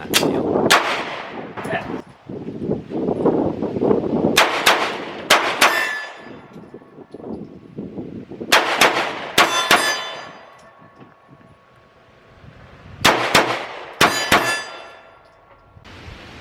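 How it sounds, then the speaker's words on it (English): A CZ P01 pistol fires sharp, loud shots in spaced clusters, ending with a rapid dump of the last rounds from the magazine, each crack ringing out with metallic clangs and echoes at an outdoor range. "Followed by a mag dump with my last 4 rounds."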